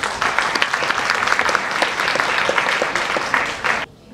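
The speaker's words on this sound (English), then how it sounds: "So please give him a big round of applause." An audience at a charity award night applauds in a dense, steady clatter of many hands for about four seconds before cutting off abruptly.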